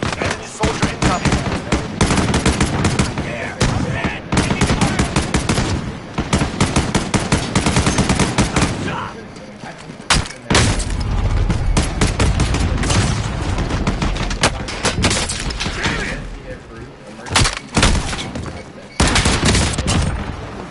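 Sustained bursts of rapid automatic gunfire and explosions in a military shooter video game, loud and dense throughout with brief lulls.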